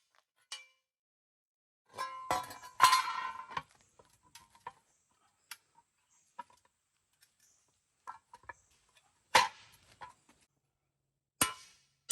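Sharp metallic clangs from a hammer striking a trailer part, in irregular bursts with quiet gaps between blows, the heaviest hits clustered early and a few isolated knocks later.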